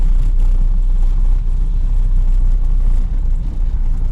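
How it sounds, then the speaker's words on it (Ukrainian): A Toyota Prius driving over cobblestones, with a constant loud low rumble and a dense, steady rattle from the car's interior and body throughout, no talking. "Ось так все тріщить, коли їдеш на пріусі по брущатці."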